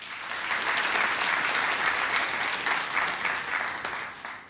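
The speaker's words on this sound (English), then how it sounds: "You deserve a round of applause." Awards ceremony audience in Trinidad and Tobago breaking into applause, a full, even roll of many hands clapping that swells quickly, holds steady and begins to fade near the end.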